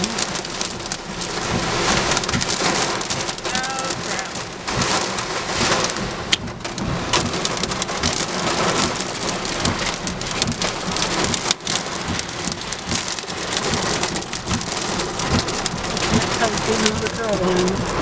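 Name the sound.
severe thunderstorm with heavy rain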